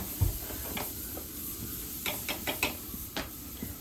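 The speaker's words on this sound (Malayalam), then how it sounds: "നന്നായിട്ടൊന്ന് ഇവിടെ തിളക്കട്ടെ നമ്മുടെ സാമ്പാർ." Sambar simmering in a pot on a home stove during a Vishu feast preparation: quiet, scattered bubbling pops and soft hissing steam, close but faint, with no voices.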